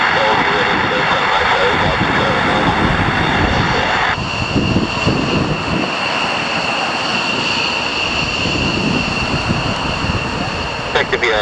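Four Lakenheath F-15 fighter jets departing RAF Mildenhall, a loud continuous roar of jet engines that fills the whole stretch, with a shift in tone partway through as the aircraft move.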